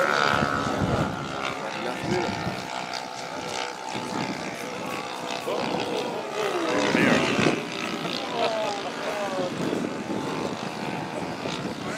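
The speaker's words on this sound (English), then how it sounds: "The silver aircraft that just did a semi-touch and was pylon racing aircraft back in the 30s" Quarter-scale model pylon racing aircraft flying at a model fly-in, a continuous propeller-engine drone that swells and fades as it passes, moderately loud, with people talking over it.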